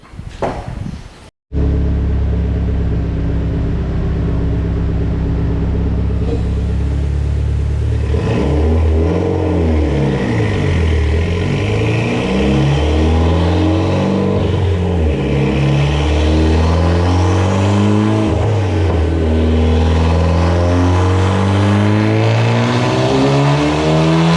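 Mitsubishi Evo X with ID1050X injectors, MHI 18k turbo, ETS intercooler and intake, running an E85 flex-fuel tune on a dyno: a brief blip, then a loud sustained engine rev climbing and wavering in pitch through repeated pulls, with no voices.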